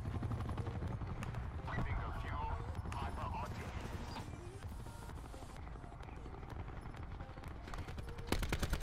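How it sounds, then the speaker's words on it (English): A strike team helicopter circles in Call of Duty Black Ops 4, its rotor chop running as a rapid pulsing drone under bursts of gunfire, with a player talking over the action. "Another strike team chopper"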